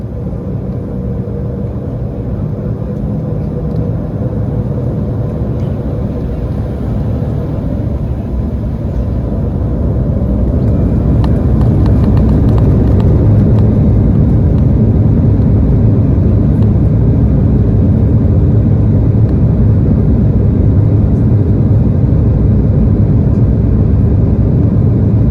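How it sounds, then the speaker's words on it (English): An Embraer E190 airliner takes off from Amsterdam, its engine roar building to a loud, steady rumble and whir for the rest of the run with no talk. "now we're gonna take a look at the departure,"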